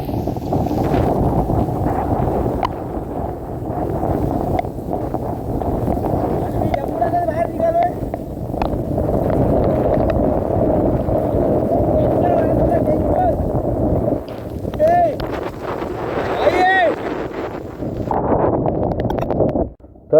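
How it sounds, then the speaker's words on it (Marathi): Strong wind and heavy rain of a Mumbai storm buffet the microphone in a constant loud roar, with scattered rustling and creaking and occasional voices heard through the gusts. "एकदम जोराचा वारा लागतोय जोराचा पाऊस सुटला आहे"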